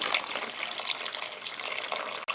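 Water is poured into a cooking pot of quinoa, giving a steady close splashing trickle that runs without a break and then stops abruptly near the end.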